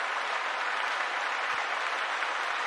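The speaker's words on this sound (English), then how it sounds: "If you can hear that applause, give me a hashtag applause in the chat section." Recorded applause effect played during a live stream: a smooth, steady wash of clapping hands, uniform and continuous with no voices over it.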